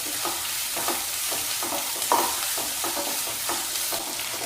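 Onion and carrot sizzle steadily in a hot pan, with rhythmic stirring scrapes every half second or so cutting through the close, even frying hiss.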